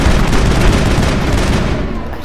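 Gunfire in the video game Mass Effect during a firefight in the Citadel: a dense, steady barrage of loud shots and booms filling the whole stretch, with no talk over it.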